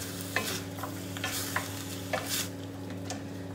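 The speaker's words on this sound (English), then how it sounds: "Give this another stir." Bacon, squash and sweet potato stew being stirred in a pot, a spoon scraping and clinking in steady strokes over a soft continuous simmer and sizzle, close and clear with no voices.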